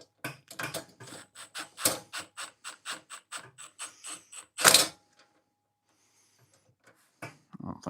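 A hand ratchet snugs bolts on a US General five-drawer tool box, giving a close, quick series of crisp clicks in steady bursts, with a louder clunk midway, a pause, then a few more clicks.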